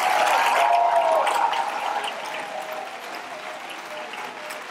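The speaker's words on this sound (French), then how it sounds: "Vous pouvez applaudir très fort nos 9 candidates" An audience applauds nine finalists at a high school eloquence contest final. Dense, sustained clapping fills the room, with a brief whistle-like tone at the start, then eases slightly toward the end.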